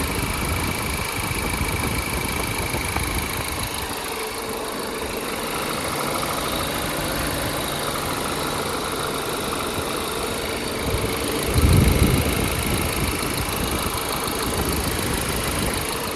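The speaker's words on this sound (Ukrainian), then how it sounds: "Двигун у нас прогрівся, скинув оберти." An Audi A4 engine idles smoothly and steadily at low revs after warming up, with a constant hum and a brief louder thump near the end.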